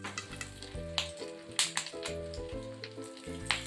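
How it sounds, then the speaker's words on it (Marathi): Fish roe (gaboli) fries in a covered pan, giving a steady sizzle with sharp spattering pops over a low, sustained tonal hum. "गाबोळी तळत असताना उडते त्यामुळे झाकण ठेवूनच तळायची"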